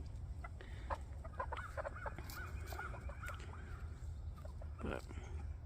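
Several backyard hens cluck in short broken calls, close and steady, over a constant low rumble. Their tails are worn away from feather loss. Faint talk mixes in beneath.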